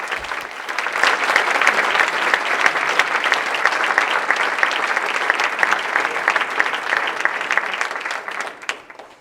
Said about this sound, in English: applaud our 3 award winners